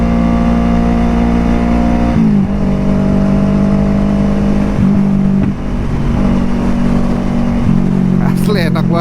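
A Kawasaki Ninja RR 150 motorcycle engine hums and climbs in pitch as it accelerates on a road, dropping briefly at gear shifts, steady and close throughout.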